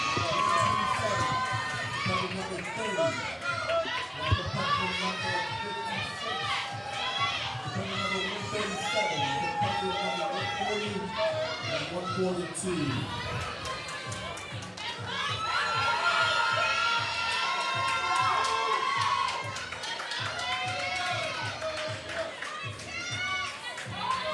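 Spectators at a natural bodybuilding championship pro bikini lineup cheer, shout and whoop in a dense, lively roar that swells near the end, with nearby talk mixed into the noise.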